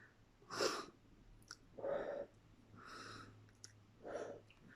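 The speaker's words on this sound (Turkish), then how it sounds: "Önce burnumuzdan nefes alıyoruz ve ağzımızdan veriyoruz." A teacher breathes in audibly through the nose and out through the mouth during a morning exercise for young children, with four slow breaths, close and soft, separated by brief pauses.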